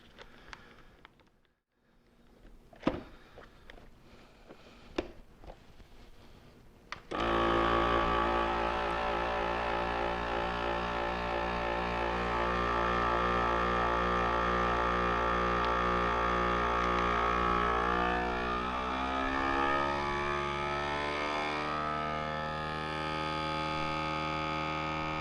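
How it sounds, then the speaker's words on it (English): A vacuum sealer pulls air from a bag of seasoned chicken, starting with a few quiet clicks and handling sounds, then a loud steady motor hum that holds and shifts slightly in pitch as sealing finishes. "It's pulled a good vacuum. Now it's finishing up the sealing process."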